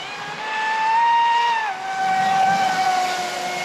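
A carbon fiber RC boat on a 6S battery runs at speed, giving a loud, steady high-pitched motor whine that dips briefly in pitch and then holds.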